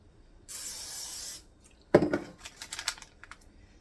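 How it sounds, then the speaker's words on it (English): A single hissing burst of cooking spray lasting about a second, followed by a pause and then a run of light clattering and tapping nearby. "Let me spray that back just a little bit because I want to get more in the center."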